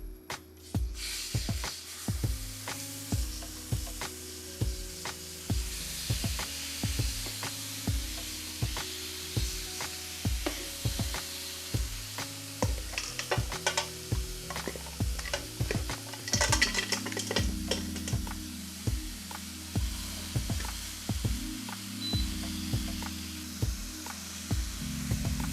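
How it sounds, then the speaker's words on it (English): Pork chops sear in a pot for a stew, a low sizzle under a steady run of soft music and a few taps of utensils. "I'm gonna add the pork chops. I'm gonna let them color inside the pot on each side for 15 minutes."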